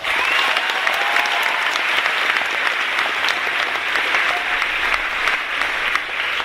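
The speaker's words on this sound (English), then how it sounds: "By a round of applause" Loud, steady applause from a large crowd fills the whole stretch, dense clapping that never lets up.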